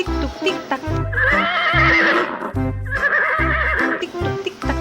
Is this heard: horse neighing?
yes